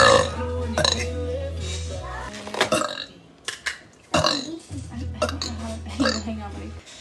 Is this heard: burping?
yes